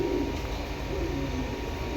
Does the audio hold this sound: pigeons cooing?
yes